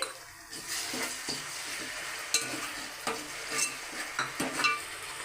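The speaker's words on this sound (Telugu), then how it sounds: "టమాటా మగ్గినంత వరకు కూడా దాన్ని ఫ్రై చేసుకోవాలి" Chopped onions and tomato with salt fry in a pan for chicken curry while a spoon stirs them, giving a close sizzle broken by repeated scraping and knocking strokes against the pan.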